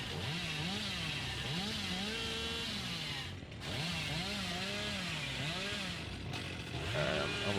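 Chainsaw in the video game Dead by Daylight, a revving motor whose pitch rises and falls in repeated surges, loud and close, with a brief dip midway before revving again.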